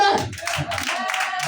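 A church congregation claps and cheers for a preacher during a French-language sermon. A short burst of applause and voices runs over the preacher's voice.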